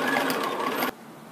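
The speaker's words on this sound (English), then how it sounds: "But I've got my sewing machine." A sewing machine runs in a short, fast buzzing burst of stitching, then stops abruptly.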